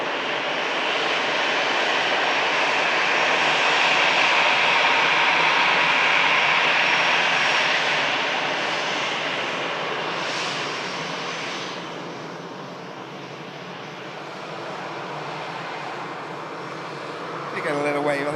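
A Qatar Airways airliner at Manchester Airport gives a steady, broad jet roar that holds strong, eases off midway and then swells again, with someone talking over it.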